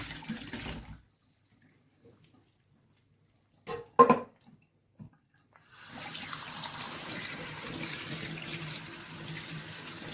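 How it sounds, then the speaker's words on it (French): Pears are rinsed under a running kitchen tap: a short gush of water, then a pause broken by a few soft knocks and handling sounds, and finally a steady, fairly loud stream into the sink. "on va égoutter les poires et surtout les rincer"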